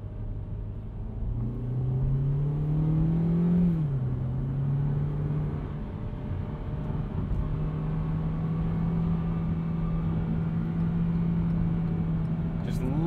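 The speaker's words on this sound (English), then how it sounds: "Just listen to that 4-cylinder scream." A 2020 Hyundai Venue SEL four-cylinder engine drones steadily from inside the cabin, rising in pitch as it revs, dipping briefly at a gear change, then climbing again under road noise.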